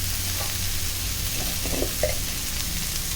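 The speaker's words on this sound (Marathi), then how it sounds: "मीडियम टू हाय गॅसवरच आपण हे छान परततो. मऊ होईपर्यंत छान परतून घ्यायचं आहे." A stuffing mixture for stuffed crab sautéing over a medium-high gas flame: a dense, steady sizzle fills the short stretch, with a couple of faint stirring scrapes.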